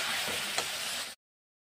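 Spices being stirred into a sizzling mixture in a pan for egg curry, a steady hiss of frying with a single soft scrape of the spoon, close and alone, cutting off abruptly after about a second.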